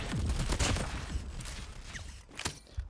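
Rapid bursts of gunfire from the USS 9 weapon in a shooting video game, with clattering mechanical clicks and sharp shots, loud at first and then trailing into scattered reports.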